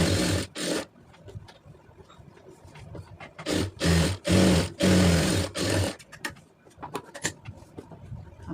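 Short bursts of a sewing machine stitching fabric lining for a round neck, several loud whirring runs of a second or so each, separated by quieter handling noises and clicks.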